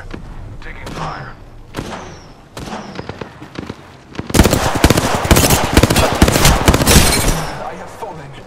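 Video game gunfire: scattered single shots and short bursts at first, then a dense, loud stretch of rapid automatic fire and heavy thuds near the end.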